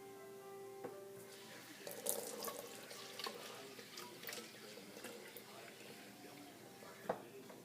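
Water runs from a tap into a small pet's water bottle with a gurgling, splashing flow and a few sharp clinks, while someone talks quietly over it.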